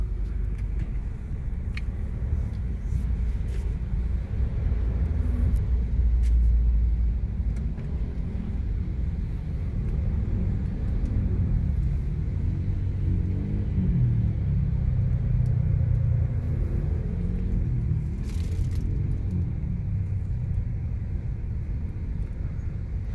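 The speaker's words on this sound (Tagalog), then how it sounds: "matindi ang traffic dito ngayon sa" Heavy road traffic on EDSA in Metro Manila rumbles steadily and low, a dense continuous drone of idling and creeping vehicles with occasional brief rises, heard from close by without talk.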